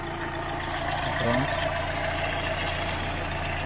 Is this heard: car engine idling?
yes